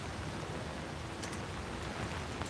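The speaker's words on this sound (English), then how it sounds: "It is starting to rain" Steady, dense patter of rain falling nearby at a trackside railway overlook, a continuous broadband hiss with no voices.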